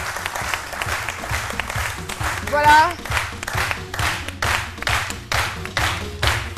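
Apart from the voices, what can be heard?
studio audience applauding a guest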